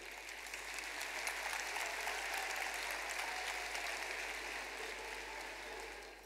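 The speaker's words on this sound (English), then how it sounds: "I think the applause should be loud enough for him to hear." Sustained audience applause at a large ISKCON 50th anniversary gathering, a dense, steady wash of many hands clapping at even loudness for several seconds before tapering slightly at the end.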